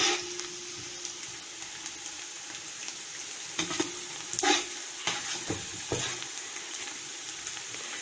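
Onions frying in a pan while being stirred until golden brown, a steady soft sizzle with intermittent scraping stir strokes, close and fairly quiet, with no voices.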